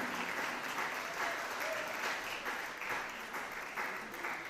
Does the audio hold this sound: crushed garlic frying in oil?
no